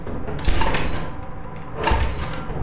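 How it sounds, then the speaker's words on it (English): Two sliding door rumbles in a co-op horror video game, each a loud grinding whoosh lasting under a second, the first near the start and the second near the end, with no voices over them. "Open the door!"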